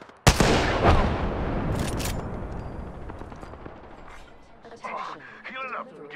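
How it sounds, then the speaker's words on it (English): Gunfire in a video game shootout, a sudden loud burst of shots followed by a long rumbling tail, then scattered quieter effects and faint voices toward the end. "The enemies are shooting at me."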